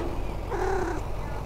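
A cat in the video game Night Bus gives a single short meow, fairly faint over a steady low background hum, with no talking.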